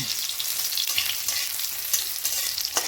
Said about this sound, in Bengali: ভালো করে ওটা ভেজে নিতে হবে তেলে।